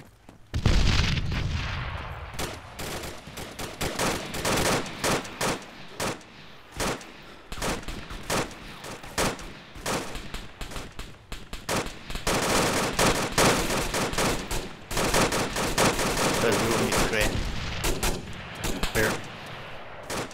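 Enemy gunfire rattles in dense rapid bursts and single cracks throughout a combat firefight during a building-clearing patrol, loud and close with overlapping automatic volleys and booms.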